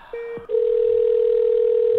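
A single steady electronic tone sounds on a phone line during an outgoing call, starting with a brief beep and then holding loud and unbroken for about a second and a half before cutting off.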